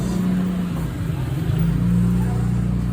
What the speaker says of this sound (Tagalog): yung motor natin okay na ulit